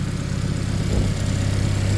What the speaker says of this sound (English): it's up and running.